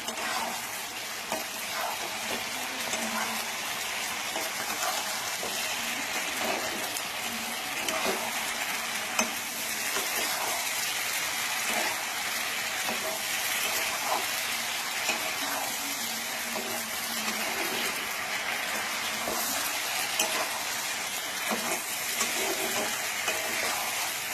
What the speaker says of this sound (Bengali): তো এখন আমি সবজির সাথে চিকেনটা একটু কষে দিচ্ছি হালকা করে।